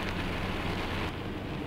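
Steady rain pours down in a dense, even hiss that fills the whole moment without pause, with no voices over it.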